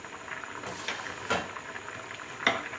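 Chicken korma being stirred in a pan, a soft continuous sizzle with a few distinct scraping strokes of the spoon against the pan.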